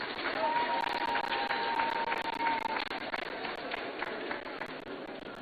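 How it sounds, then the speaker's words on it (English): Applause from a crowd at a citizen engagement town hall at Ndewura Jakpa Senior High School in Ghana, a broad, continuous clapping texture with a faint steady tone and some crowd noise mixed in. "Let us welcome him with a big round of applause."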